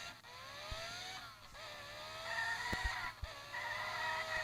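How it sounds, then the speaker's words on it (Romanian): A car in a racing video game skids under hard braking, with a rising and falling engine whine, tyre squeal and a few sharp thumps, heard fairly quietly without any talk. "Mașina asta vedeți că deraiază dacă pui frână super mult"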